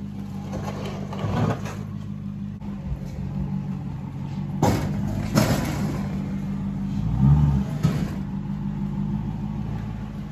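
A Lexus LS400 engine on the road, a steady mid-range rumble that rises in a couple of revving surges, heard from inside the car with no talking.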